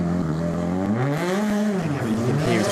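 A WRC hybrid rally car at the Rally de España shakedown, its engine rising and falling in pitch as the throttle is fed in and eased off, loud and close with a few sharp pops.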